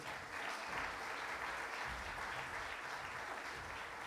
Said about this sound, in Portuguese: No baixo, Gilberto de Silos,